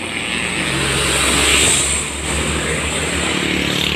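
A group of motorcycles rides past on an Indonesian road, a loud, dense engine roar that swells as the riders pass close and then settles into a steady drone, with no talking.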